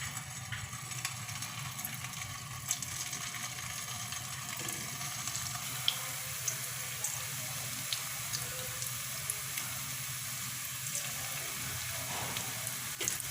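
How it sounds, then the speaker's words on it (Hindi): Chicken koftas frying in lightly heated oil over low to medium heat, a steady soft crackling hiss that runs without pause, faint and even. "ऐसे ही धीमी से दरमियानी आंच के ऊपर इनको हल्का सुनहरा सा फ्राई कर लेंगे"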